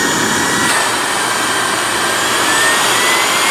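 An MBYULO 600W cordless vacuum cleaner running on its mid power mode, a loud, steady, close whooshing whine of motor and airflow that holds constant throughout with no speech.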